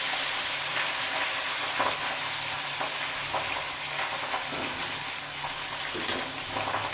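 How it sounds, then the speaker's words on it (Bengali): Cooked Gobindobhog rice fries in ghee and white oil while being stirred, giving a steady loud sizzle with scraping stir strokes and small crackling bursts, no talking. "এই ঘি দিয়া আর সাদা তেল দিয়া ভাতটা আমি ভেজে দেব।"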